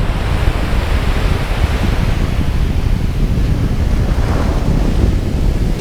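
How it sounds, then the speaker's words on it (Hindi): Ocean surf at Alappuzha beach in Kerala, a loud continuous roar of breaking waves with heavy wind buffeting the microphone and a swell rising near the end, no voices. "आपको आवाज़ भी आ रही होगी लहरों की।"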